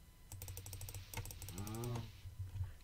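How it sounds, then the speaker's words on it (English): Clicks of a wireless Logitech computer mouse during Minecraft play, a fast run of sharp repeated taps at close range, with a brief burst of game noise partway through. "You probably can hear my mouse clicking."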